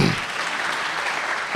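An audience at an academic farewell program gives brief applause, a steady wash of clapping that stays even throughout, with a faint voice at the start and the end.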